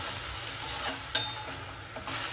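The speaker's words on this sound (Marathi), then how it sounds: "छान मिक्स करून घेऊया" Fenugreek leaf (methi) bhaji is stirred in a hot pan, a soft steady sizzle with scraping strokes and a sharp clink of the spoon midway, close and quiet with no talking.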